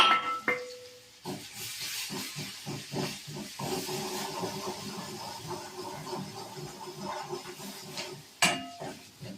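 Garlic sizzles as it fries in a pan with turmeric, salt and spice mix, a steady close hiss with scattered crackles and a few utensil clinks, and no voices.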